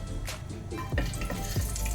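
Whole spices such as cloves and cinnamon dropped into hot coconut oil in a pressure cooker, giving a steady close sizzle and crackle with faint stirring, no voices.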